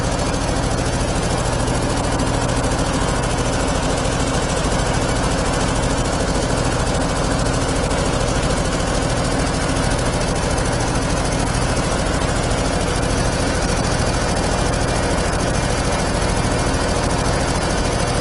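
A loud 25-horsepower air compressor idles with a steady, rapid knocking rumble that holds constant throughout.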